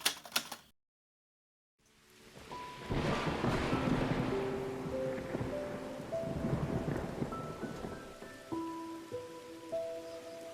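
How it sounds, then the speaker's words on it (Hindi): A heavy rainstorm with thunder: a dense, steady roar of downpour rises after a brief silence, with deep rumbles beneath, and soft musical tones enter partway through. "बाहर बहुत तेज़ बारिश बरस रहा था। चारों तरफ बहुत ज़्यादा बिजली कड़क रहा था"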